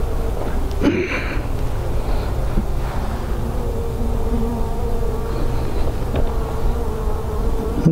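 Honeybees buzzing around an open hive during an inspection, a steady close drone with individual bees passing near, continuous and loud without speech.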